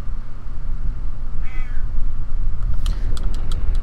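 A pet cat meows once at moderate distance in a hot room, a brief wavering cry over a constant low hum, followed by sharp clicks of game controller or keyboard input.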